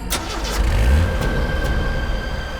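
A car engine starts in a TV crime-drama scene, then revs and pulls away. A low rumble swells in the first second and carries on as a steady, close engine drone.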